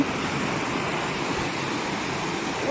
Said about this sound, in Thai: น้ำตก น้ำตกตรงสะพาน